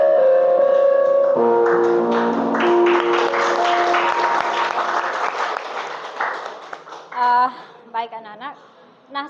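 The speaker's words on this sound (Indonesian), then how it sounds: "Kasih tepuk tangan untuk kita semua" Classroom applause from a group of schoolchildren, a short burst of clapping at moderate loudness with a voice speaking over it, fading into talk near the end.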